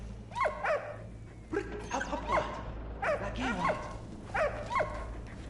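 In the video game Valiant Hearts, a dog yips, barks and whimpers in short repeated bursts, close and clear over a low steady background hum.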